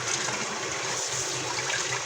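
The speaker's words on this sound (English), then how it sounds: "See how I'm rubbing that lemon across there and rinsing it?" A lemon being rinsed and rubbed by hand under a running kitchen tap, producing a steady close rush of water that barely changes throughout.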